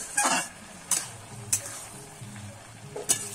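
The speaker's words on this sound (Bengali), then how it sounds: "এবার ভালো করে কিন্তু নেড়ে নিলাম।" Sweet gourd being stirred and fried in a pan, with a soft steady sizzle broken by a few sharp scraping strokes of the spoon against the pan, close and fairly quiet.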